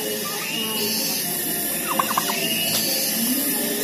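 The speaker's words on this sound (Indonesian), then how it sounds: "Ini ayam kalkun tuh." A turkey gobbles in a village setting in West Java, a short burst of rapid rattling calls heard amid steady outdoor background noise, with no talk.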